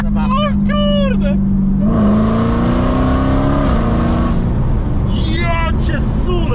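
A 707-horsepower Dodge Hellcat with traction control switched off, a loud steady engine drone that rises in pitch as it accelerates away and fades into the distance, with excited voices shouting near the microphone before and after.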